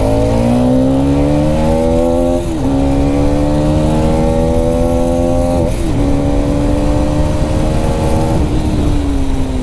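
A Hero Karizma XMR 210 motorcycle engine runs loud and close while riding, revving up through the gears with rising whine and brief dips at each shift, continuous and without talk.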